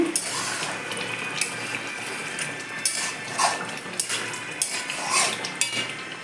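A metal lid comes off a pot of cooked chicken meat curry in a home kitchen, with clinks and scrapes of cookware and utensils over a steady simmering hiss, several sharp metallic knocks spread through.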